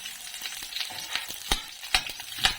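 Garlic and onion sautéing in a pan for a coconut-milk vegetable dish with shrimp: a steady close sizzle with several sharp stirring scrapes and clinks spaced through it, no voices.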